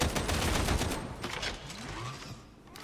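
Rapid gunfire from the video game Darktide rattles in a dense volley of shots, strongest at first and then thinning out, with no talking.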